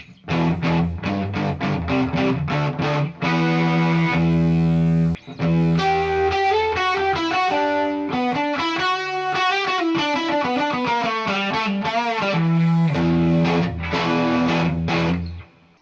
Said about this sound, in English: I probably would not use that dimed gain sound all that much